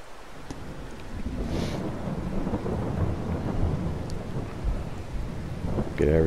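Heavy rain and rolling thunder in the farming video game Farming Simulator 22: a dense, steady rush of rain with deep rumbling underneath, continuous and fairly loud, with no voices.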